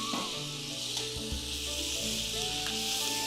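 Tomatoes and potato pieces fry in a pan for Rayalaseema-style uggani, making a loud, close, constant hissing sizzle with a faint tonal hum underneath and no speech.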